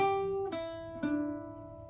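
Irish bouzouki playing a group of three plucked notes, the first ringing and the next two struck about half a second apart, each with a sharp attack and sustained metallic decay, close and alone.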